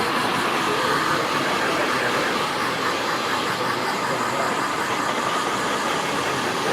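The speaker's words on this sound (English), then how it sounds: "I'm just finger drying it with a hair dryer." A hair dryer blows steadily and close while fingers toss and dry a man's choppy haircut, a constant broadband whoosh holding at one level throughout with no voices.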